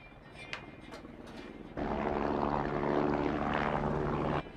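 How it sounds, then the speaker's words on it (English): A helicopter in a zombie horror film scene, its engine and rotor roar surging in abruptly and holding loud and steady for a few seconds before cutting off, after a quieter stretch. "That's the chopper. That thing is still out there."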